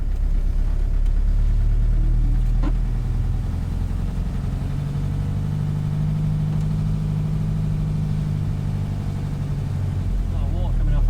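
A car engine idles and rumbles at close range while reversing through heavy storm rain in North Devon, a steady low drone with water noise throughout and people talking over it.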